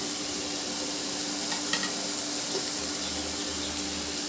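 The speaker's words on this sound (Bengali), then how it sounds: "দু মিনিট পর ফিরে এসে ঢাকাটা খুলে দেখি আবার একটু ভালো করে নেড়ে দিলাম" Tilapia fish curry in a pan is stirred after simmering under a lid, giving a continuous soft sizzle with faint scraping and a low hum underneath, fairly even and moderately quiet.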